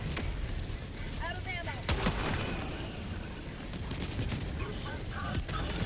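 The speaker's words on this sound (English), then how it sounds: "Where is this thing launching these mortar strikes?" Enemy artillery mortar strikes in the Helldivers 2 video game, heavy booming impacts and blasts rumbling over a dense battle din, with a voice talking over the explosions.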